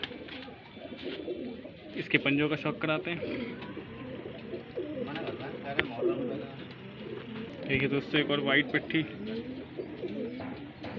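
Highflyer pigeons in a loft in a village near Bareilly, Uttar Pradesh, give soft coos and bird calls close by, running under steady talk by a man throughout.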